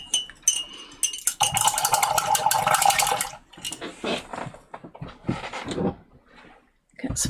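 Paintbrushes are swished and rattled in a water jar at a painter's desk, with bursts of sloshing water and light clinks of bristles and handles against glass, close and fairly loud, with short pauses between.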